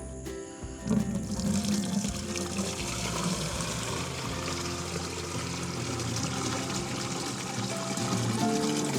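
Water sprays steadily from a $9 solar shower bag, a continuous close hissing patter that keeps on without pause, with no voices.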